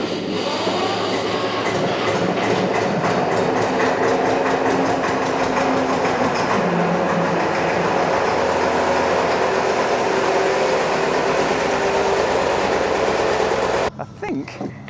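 A vintage Porsche diesel tractor engine runs loud and close with a steady rhythmic chugging and clatter that shifts in tone midway, then cuts off abruptly near the end. A voice is faintly present beneath the engine.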